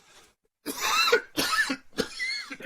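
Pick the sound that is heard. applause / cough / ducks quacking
cough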